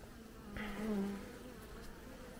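Caucasian honeybees buzzing during a hive inspection, a faint low drone with a brief louder buzz of a bee passing close, set against quiet background.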